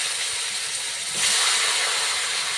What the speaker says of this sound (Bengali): কড়াইতে আমটা ভেজে দিলাম